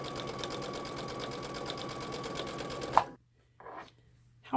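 Brother Innov-is VM5100 sewing machine topstitching with a zipper foot, a steady close rapid stitching whir for three seconds that stops abruptly, followed by a couple of short stitch bursts.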